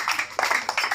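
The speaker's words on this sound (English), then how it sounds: "Clap for Jesus." Congregation clapping at a live Sunday prophetic and deliverance church service, a few sharp, close claps in quick rhythmic succession over about a second.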